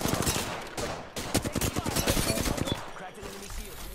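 Two assault rifles fire together in a video game as a dense, rapid burst of overlapping shots lasting a couple of seconds, while a voice talks over the gunfire.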